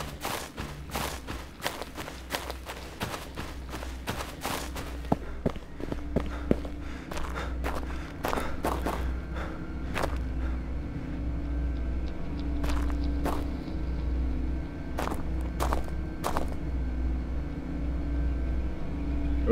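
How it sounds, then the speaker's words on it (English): Footsteps in the video game Road to Vostok, a run of regular thuds and clicks through the first half, then sparser steps over a steady low rumble of background ambience. "Oh, hearing footsteps."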